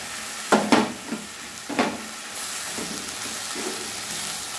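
Mustard and poppy seed paste fries over a low gas flame for katla kalia fish curry, a soft steady sizzle with a few brief louder bursts of stirring near the start and quieter scrapes later, no talking.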